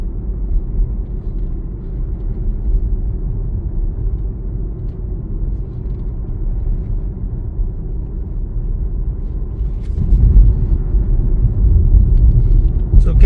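A car drives steadily on an internal road, its low engine and road rumble constant from inside the cabin, growing louder near the end.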